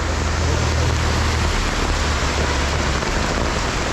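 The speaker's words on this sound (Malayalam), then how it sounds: "തുടക്കം തന്നെ നല്ല മഴയാണല്ലോ" Heavy rain pours down steadily, a dense, loud hiss with a low rumble underneath throughout.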